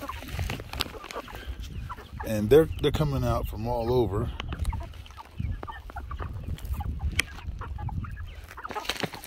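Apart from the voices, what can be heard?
egg-laying hens clucking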